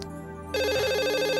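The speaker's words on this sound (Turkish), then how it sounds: "Şu anda telefonum çalıyor." A mobile phone rings with a loud, bright electronic ringtone that starts after a brief quieter tone and plays a steady repeating melodic pattern, close to the listener.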